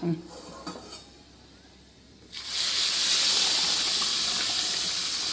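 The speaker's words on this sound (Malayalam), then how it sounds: "ഞാനിവിടെ വെള്ളം തിളപ്പിക്കാൻ വെച്ചാണ്" On the stove, a pot of water heats toward a boil. A few quiet clinks come first, then a loud, steady rushing hiss starts abruptly halfway through and carries on to the end.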